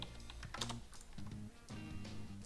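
Computer keyboard keys pressed during animation editing work, several quick quiet clicks and taps in irregular bursts, close and soft, with no talking.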